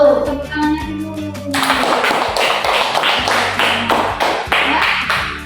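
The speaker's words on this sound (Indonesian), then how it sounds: "Tepuk tangannya dulu." A class of students applauds in a classroom, a dense burst of many hands clapping that starts after a short musical opening and carries on steadily to the end, fairly loud and close.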